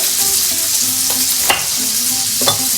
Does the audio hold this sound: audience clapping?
no